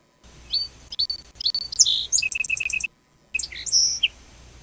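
Small birds chirp and tweet close by in quick, bright bursts, with one short silent gap partway through and no voices.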